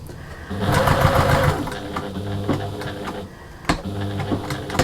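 A sewing machine runs steadily, stitching along the long lining edge of a fabric storage caddy, then pauses briefly before restarting with a closer, louder burst of motor hum and needle clatter.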